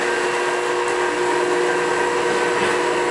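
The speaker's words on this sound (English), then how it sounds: "I'll turn the VitaMix on now." A VitaMix blender runs at speed one, a steady, close motor whir with a constant tonal hum and airy rushing layer, uninterrupted for the whole stretch.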